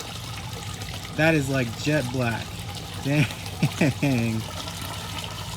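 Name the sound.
hydroponic liquid fertilizer poured into water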